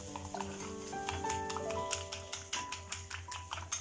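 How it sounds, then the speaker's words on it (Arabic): Homemade mayonnaise being stirred by hand as oil is added, a close rhythmic tapping and scraping of a utensil against the bowl with faint tonal hum in the background. "كل ما كنتوما كتكبو الزيت نتوما كتخلطو بيدكم."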